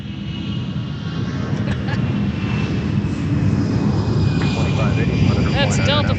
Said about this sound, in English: That's Delta Flight 2885 headed to Milwaukee, a former Northwest Airbus A319.